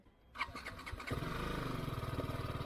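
A BMW G 310 GS or Suzuki V-Strom SX 250 touring motorcycle cranks with a short whirring starter, then catches and settles into a loud, close, rapid idle, with no voices over it.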